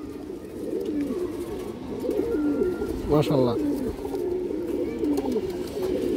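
A healthy, active pigeon coos in soft, rolling bursts close by, with a more pronounced coo in the middle, while someone talks over it throughout.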